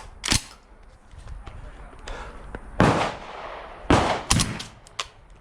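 Three loud 12-gauge shotgun blasts from a Black Aces Pro bullpup fitted with a V6 muzzle brake, spaced about a second apart with sharp reports and short decaying echoes outdoors, with a fainter crack earlier and quiet background between.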